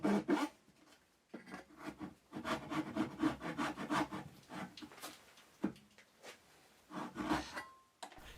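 A fine-toothed dovetail saw cuts tails in reclaimed hardwood, with close, rhythmic rasping push and pull strokes in short bursts separated by brief pauses.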